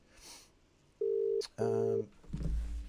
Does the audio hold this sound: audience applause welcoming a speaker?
no